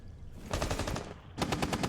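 Two rapid bursts of UMP45 submachine gun fire in Rainbow Six Siege at the Consulate map, a long stuttering volley followed by a shorter one after a brief pause, loud and close with no talk.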